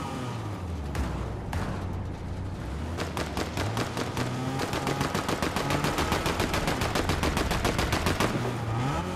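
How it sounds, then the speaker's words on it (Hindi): Rapid gunfire crackles through Fortnite gameplay, with dense bursts of automatic shots that grow into a fast, continuous rattle over a low engine drone. "फायरिंग हो रही है"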